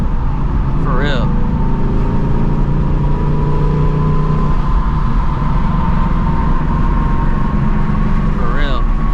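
2024 Ford Mustang GT with a manual gearbox, engine droning loud and steady as it rolls through gears, revs rising and falling between shifts; someone talks over it throughout.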